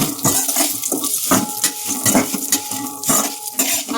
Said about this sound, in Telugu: ఎండుమిరపకాయలు అయితే మంచిగా వేగిపోతున్నాయి కదా